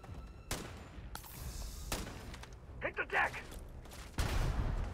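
Enemies keep firing grenades in Starfield combat, giving sharp bursts and thuds spaced through a few seconds at moderate loudness, ending in a louder blast.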